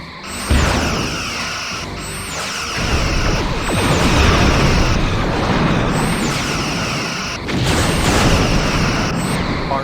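Torpedo fire and explosions in the Star Trek Bridge Commander video game: heavy booming blasts and crashing impacts come in repeated waves, loud and close, with short sharp bursts between the rumbling explosions.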